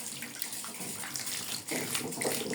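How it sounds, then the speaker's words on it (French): Tap water runs and splashes as hands are rinsed beneath it, a close, continuous gushing with shifting spatter as the hands move through the stream, no voices. "je vais me rincer les mimines"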